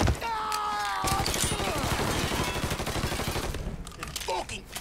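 Rapid bursts of gunfire from the Mafia 3 video game, a dense crackling fusillade filling most of the stretch, with shouting voices mixed in during the firefight.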